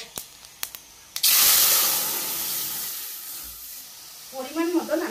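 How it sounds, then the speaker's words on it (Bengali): Lentil dal poured into hot spice tempering of dried red chillies and radhuni in a home kitchen bursts into a loud, sudden sizzle and hiss after a few light taps, then settles into a steady fizz as a voice speaks. "আমি কিন্তু এখন ডালটা এর ভিতরে দিয়ে দেবো।"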